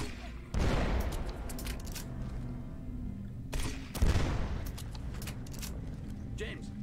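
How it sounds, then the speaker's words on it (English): In the game 007 Legends, a grenade launcher fires twice, each shot a heavy thump several seconds apart, over a steady background of game noise and faint clatter. "Oh wait, I have a grenade launcher."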